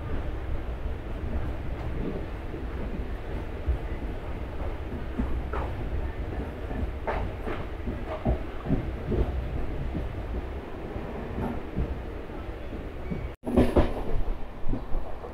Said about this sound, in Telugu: మన ట్రైన్ అయితే స్టార్ట్ అయిపోయింది భీమవరం జంక్షన్ రైల్వే స్టేషన్ నుంచి 8:08కి